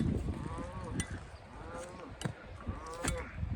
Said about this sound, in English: Cow back there.